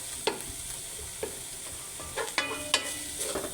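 Ground meat sautéing in a pan, a soft steady sizzle with a few sharp scraping and tapping stirs, fairly close and quiet, no talk.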